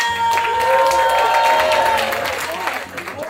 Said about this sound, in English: Everybody start clapping it up for Nimesh Patel